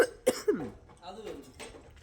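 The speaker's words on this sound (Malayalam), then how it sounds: "ചുമ വന്നാൽ ചുമക്കാതിരിക്കാൻ പറ്റില്ല ഗൈസ്" A person coughs two sharp times in quick succession early on, followed by a brief throaty vocal sound; close and fairly loud, with quiet background after.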